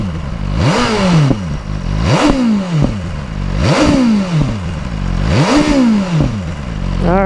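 A 2023 BMW M1000R Competition motorcycle engine burbles and pops after shutoff, loud and close, with four repeated swelling, descending waves of crackling exhaust roughly every second and a half.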